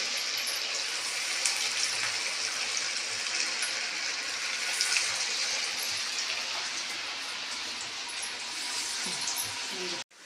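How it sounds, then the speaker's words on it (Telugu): Corn fritters slide slowly into hot oil and fry with a steady, close hiss and bubbling sizzle that fills the whole stretch, ending with a brief clatter at the very end. "ఆయిల్ వేడెక్కినాకనైతే ఇట్లా వేసుకోవాలి మెల్లగా వేసుకోవాలండి"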